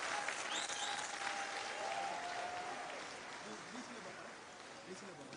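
An audience at the opening ceremony of the Ecofest claps in a fairly faint, distant wash that slowly fades, with voices and background noise mixed in.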